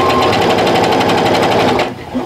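A sewing machine stitches half square triangle quilt pieces in a steady, rapid running buzz close by, stopping abruptly near the end. A voice speaks over it.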